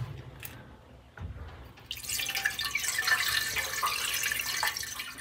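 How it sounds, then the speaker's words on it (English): Water poured into the radiator of a barn-find Sprite car: a few faint drips at first, then a steady splashing, gurgling pour that fills the rest of the moment, close by with no talking. "that's fill the radiator with water"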